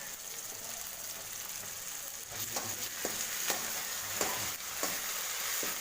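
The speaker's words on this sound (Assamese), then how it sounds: "পিঁয়াজখিনি অলপ ভালকৈ ভাজি ল'ব তেতিয়া মছলা মিক্সাৰ পেষ্টকেইটা দি ল'ব ভাজি ল'ব বঢ়িয়াকৈ" Onions and masala paste fry in a pan for an Assamese pork dish, making a constant close sizzle broken by sharp scraping clicks as a spoon stirs them.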